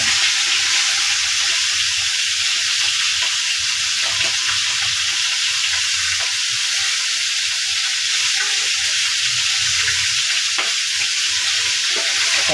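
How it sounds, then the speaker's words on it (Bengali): Fish heads frying crisp in hot oil, giving a loud, steady, dense sizzle with crackle that runs unbroken throughout and sits close up. "মশমশে করে ফ্রাই করা হচ্ছে তেলের মধ্যে"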